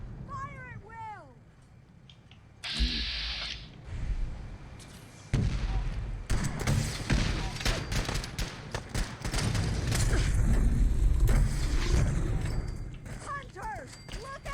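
A battle in Fallout 4 erupts into a dense volley of gunfire and booming shots after shouted commands, with rattling fire continuing loud and near under overlapping voices.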